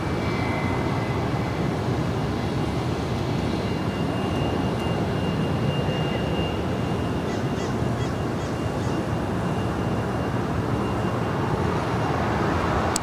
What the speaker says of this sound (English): Flight 2035 there with United on this A320